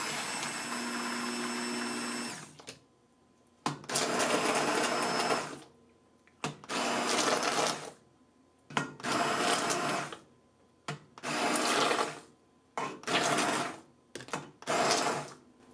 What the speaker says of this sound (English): I'll start blending on medium speed and turn it to high if I need to.